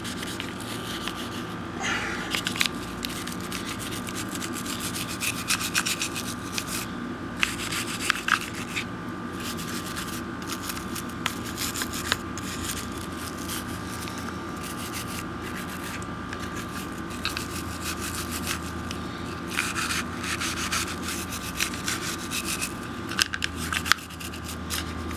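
Steady, close brushing and scratching runs throughout as grime is scrubbed off a firearm's textured surfaces, with repeated quick bristle strokes and small clicks over a constant background hum.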